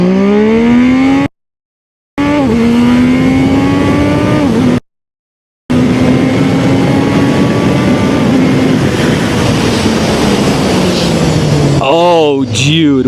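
Zontes 703RR motorcycle launching hard from standstill toward 150 km/h, its engine climbing through rising gear pulls with brief gaps at shifts, loud and close with wind roar, ending in a quick downshift burble.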